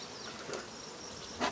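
Honeybees drone around an open hive box during a swarm-shaking session, a faint steady buzz close at hand with a brief louder flare at the end.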